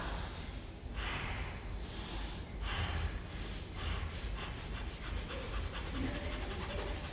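A group doing fire breathing, a rapid nasal breathing exercise: a series of forceful, rhythmic breath bursts through the nose, spaced evenly at first and then coming quicker and softer, close and moderately loud.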